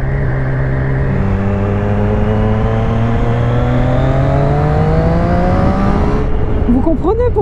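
A 2020 Triumph Street Triple S motorcycle engine accelerates hard in the rain, pitch climbing steadily through a long pull before the throttle closes, followed by brief quieter sounds.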